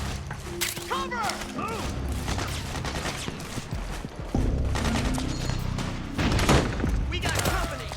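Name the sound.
gunfire in the video game Metal Gear Solid 4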